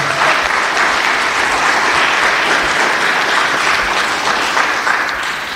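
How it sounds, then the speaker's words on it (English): An audience at a forum on guns in America, held in a church, applauds its panel with sustained, dense clapping that stays loud and even throughout. "Let's give a whole round of applause to our panel."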